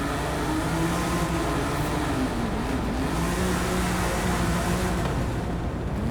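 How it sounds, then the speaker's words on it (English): A car engine in the racing game Forza Horizon 5 revs steadily as the car takes a corner, a loud continuous drone with wavering pitch. "Revving the tyres around the corner."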